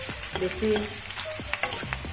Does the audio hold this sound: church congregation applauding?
no